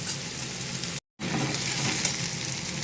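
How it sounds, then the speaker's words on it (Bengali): Green beans and potatoes sizzle and crackle steadily in a hot pan while being stirred, with a brief silent gap partway through before the frying noise returns just as loud. "সিম আলুটা ভালো করে একটু নাড়াচাড়া করে নেব, একটু ভেজে নেব ভালো করে"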